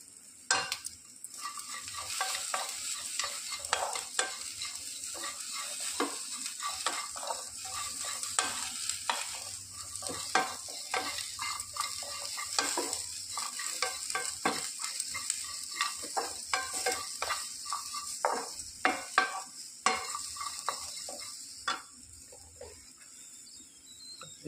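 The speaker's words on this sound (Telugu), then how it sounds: "ఆనియన్స్ కూడా కొంచెం ఫ్రై అయిపోయినాయి" Onions and curry leaves frying in a pan, a steady bright sizzle throughout with frequent scraping and stirring clicks from a spoon, close and continuous, no talking.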